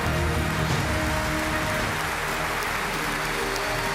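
Audience at an Atomy Imperial Master promotion ceremony at Success Academy applauds steadily, a dense, continuous roar of clapping with some cheering that holds at even loudness throughout.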